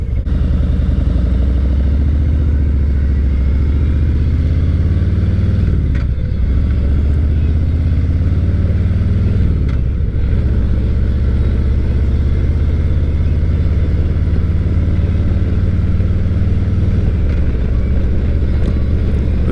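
Steady, loud engine rumble of a Harley-Davidson motorcycle riding through a park, continuous for the whole stretch with a couple of brief dips as the throttle eases and picks back up.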